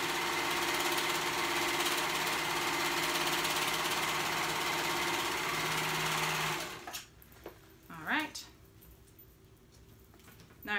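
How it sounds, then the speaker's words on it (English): A sewing machine joins fabric pieces at the short end of a romper cuff, running a loud, steady whir for about seven seconds before stopping, followed by a few light handling noises. "right sides together again at the short end. We're gonna go ahead and sew that together"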